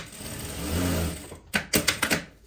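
A sewing machine stitches along the sides of a fabric strip. A low hum gives way to a series of about five sharp, close mechanical bursts in quick rhythm.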